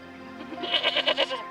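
A frightened goat in a mountain herd bleats once, a wavering, quavering cry that swells and pulses for about a second, close and clear, with no talk.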